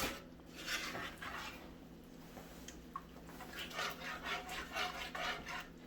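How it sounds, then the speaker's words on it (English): A spoon scrapes and rubs around a pan while a butter cream sauce is stirred with the heat off, quiet repeated strokes over a low steady hum, with no talk. "And you just keep stirring that all together."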